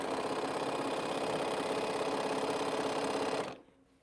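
A sewing machine stitches quilt pieces with a fast, steady mechanical whir close by, running continuously for about three and a half seconds before stopping abruptly.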